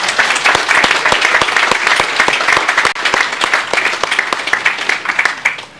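Sustained, loud applause from an audience at a Masonic lodge anniversary open house, dense clapping filling the whole stretch with no pauses.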